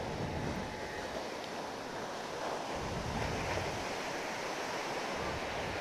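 Continuous rushing surf of waves breaking on Santolo Beach in Garut, Indonesia, mixed with wind buffeting the microphone, steady and fairly loud with no voices.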